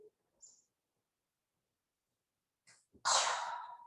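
A single sharp sneeze bursts out loudly near the end, preceded by a brief intake of breath and a couple of tiny faint sounds in otherwise quiet surroundings.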